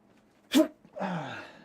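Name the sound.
sneeze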